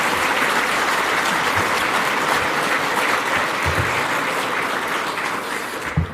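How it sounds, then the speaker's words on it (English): A room full of people gives the Honourable Monte McNaughton, a minister, a sustained round of applause at a Canadian Club event. The clapping is dense and steady throughout and ends with a single louder clap or knock. "Let's give a round of applause for the minister."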